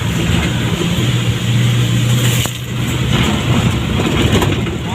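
Engine of a truck loaded with palm oil fruit climbing a steep, rough road, a loud, sustained low drone with a rattling, labored strain that dips briefly midway and then pushes on.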